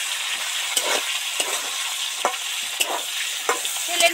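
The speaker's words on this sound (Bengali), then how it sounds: "এবার এই টুকরো করা টমেটোটা তেলের মধ্যে দিয়ে দিচ্ছি।" Chopped tomato goes into hot oil for an okra (bhindi) curry, producing a steady close sizzle broken by regular scraping stirs of a spatula roughly every half second.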